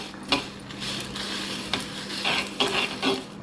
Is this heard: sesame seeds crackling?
yes